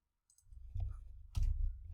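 A computer keyboard gives a couple of crisp key clicks with a short gap between them, close and fairly quiet.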